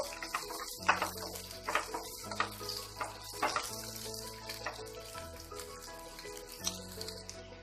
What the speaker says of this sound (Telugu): ఆనియన్స్ ఒక్క నిమిషము ఇలా ఫ్రై చేసేసుకుందాము